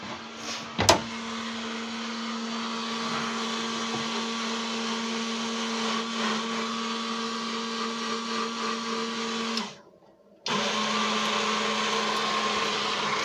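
A small electric water pump primes a camper van's sink plumbing in a Citroën Jumpy, a steady close motor whine with a brief knock near the start and a short cutout around ten seconds before the hum resumes.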